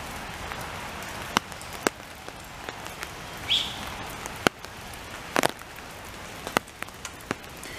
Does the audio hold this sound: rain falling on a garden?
yes